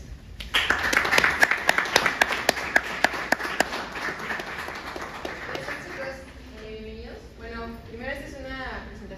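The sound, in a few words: audience applause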